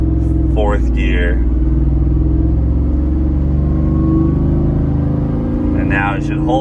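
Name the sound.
supercharged Ford F150 truck engine accelerating in gear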